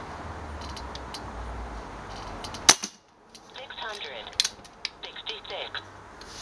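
A Kral Puncher N-07 air rifle fires a single sharp, close crack, followed by softer mechanical clicks and clatter from the gun.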